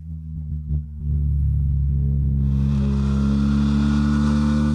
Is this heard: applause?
no